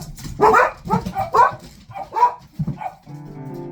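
A few dog barks and yips in quick succession, close and clear, followed by a brief tonal musical note at the end.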